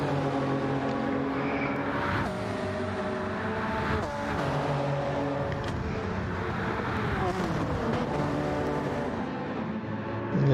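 Race cars, including a Honda NSX, roar through a sim racing video game, a steady layered engine drone with shifting pitch continuing throughout.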